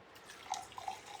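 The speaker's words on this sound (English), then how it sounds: "Start out with a little rinse of my Chemex filter because I don't want to taste any paper." Water trickles through a Chemex paper coffee filter during a rinse, with faint scattered drips over a soft, quiet flow.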